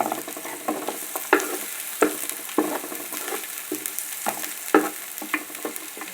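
Pork sautés in hot rendered fat with garlic and onion, a steady sizzle broken by regular scraping stirs of a spatula against the pan, close and without talk.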